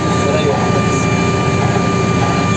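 A farm vehicle's engine on a road trip to collect wheat seed roars steadily like an airplane, a loud continuous drone filling the cab with no letup.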